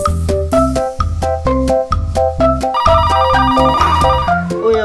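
A loud, bright phone ringtone plays a repeating electronic melody, its tones pulsing steadily throughout with no talking.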